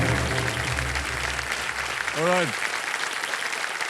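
A studio audience at a televised quiz show claps steadily under a host's voice, the applause staying moderately loud and even throughout.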